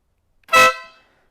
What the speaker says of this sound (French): si je mets un coup de klaxon